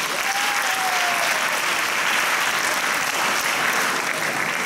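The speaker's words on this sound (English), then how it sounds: "Clap for yourself." An audience at a motivational gathering breaks into steady, dense clapping that carries loud and unbroken from start to finish, with no voices rising above it.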